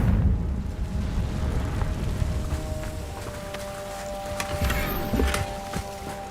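A Confringo fire spell bursts in the video game Hogwarts Legacy, a loud rumbling boom that rolls on for several seconds with crackling and a sharper flare near the end.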